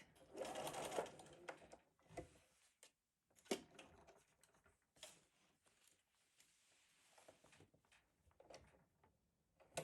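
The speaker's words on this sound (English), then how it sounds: "I'm going to go to the sewing machine and baste around the entire edge of this" A sewing machine runs in short bursts while basting around the edge of a cross stitch bag, whirring loudly then pausing, with quieter stitching stretches and occasional clicks between runs.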